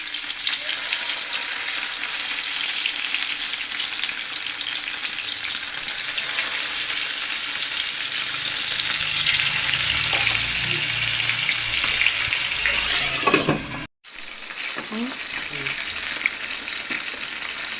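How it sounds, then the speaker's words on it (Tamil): Loud, steady sizzling of masala-coated fish frying in hot oil fills the clip, briefly cut off near the end before the crackling resumes. "மீன் பொரிச்சு எடுத்துக்கலாம்"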